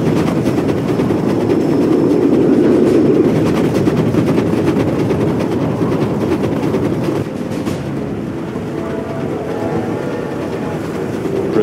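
A train rolls along in the strategy game Command & Conquer, a continuous rumbling clatter at a steady loudness that eases slightly near the end.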